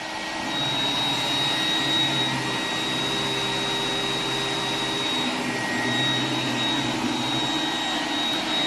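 An iRobot Roomba 980 robot vacuum runs on a thick-pile carpet in a lounge, giving a steady, fairly loud whirring drone with a high whine on top that holds throughout without pause.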